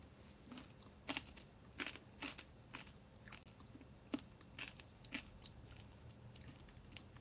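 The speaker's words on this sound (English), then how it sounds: "It gives a bit of crunch" Crunchy corn nuts from a snack mix chewed together with a vegetarian two-bean chili from a 2021 kosher ration, giving several short, close crunching bites spaced apart over a quiet background.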